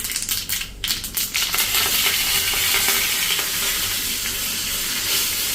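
Curry leaves hit hot oil already tempered with mustard seeds, asafoetida and sesame seeds, setting off a sharp crackling burst followed by a steady loud sizzle that holds close and even, with no talking.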